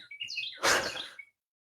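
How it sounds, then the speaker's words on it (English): A small bird chirps in a quick series of bright tweets, then a short burst of noise follows before the sound cuts to silence. "That bird is so much more interesting than I am."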